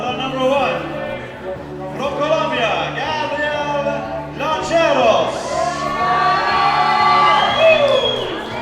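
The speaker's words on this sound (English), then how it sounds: "Big cheer from the Colombian crowd as our first Colombian climbers out on the wall" At a junior Pan-American bouldering competition, a Colombian crowd cheers for a home climber, with loud whoops and rising shouts swelling toward the end while a commentator talks over it.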